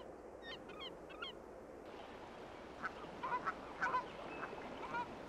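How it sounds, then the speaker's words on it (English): Canada geese honk in Acadia National Park, a scattered series of short nasal calls at moderate distance over a low outdoor hum, with faint bird chirps early on. "Canada geese breed here"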